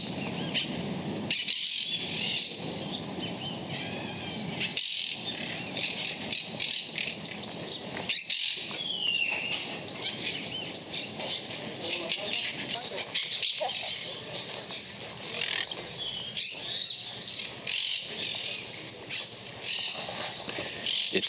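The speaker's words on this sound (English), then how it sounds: "there's a ton of parakeets up there" A flock of parakeets squawks and chirps in the treetops beside a lake in a Mexican lakeside town, shrill calls repeating throughout while a person talks nearby over the steady outdoor noise.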